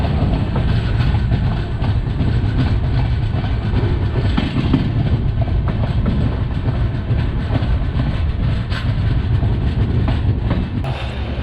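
Una Jan Shatabdi Express running at speed, heard from inside a carriage: a dense, continuous rumble of wheels on rails with steady clattering, loud and close, no voices.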